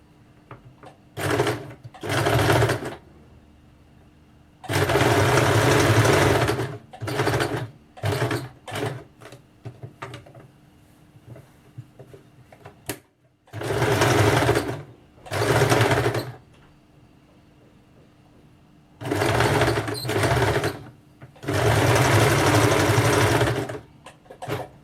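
A sewing machine stitches the shoulder seams of a blouse in quick bursts, loud close whirring runs stopping and starting, some long and some short, with quiet gaps between.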